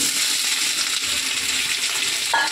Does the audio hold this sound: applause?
no